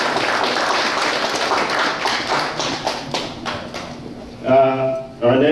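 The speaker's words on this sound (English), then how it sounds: "let's give a nice round of applause for Neville" Audience applause at a Veterans Day tribute honoring a rescue dog named Neville, a dense patter of clapping from a crowd that swells and fades, with brief louder bursts near the end.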